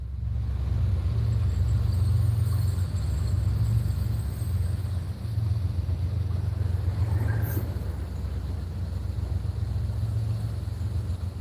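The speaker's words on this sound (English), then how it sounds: "That's our third train of the day, folks." Heavy train engine rumbling steadily past on nearby railway tracks by a fishing spot, a continuous loud low drone with no talk.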